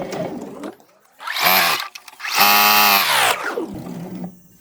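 A sewing machine stitches seams on baby clothes being turned into cleaning cloths, running forward and backward to lock the stitches. Two distinct close, whining bursts run for about a second each, with quiet gaps between them.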